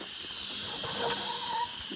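A Fowler R3 steam traction engine with a new crankshaft, struggling in reverse with faulty timing, gives a steady loud hiss of escaping steam with faint chuffs and a brief squeal, close by and without talk.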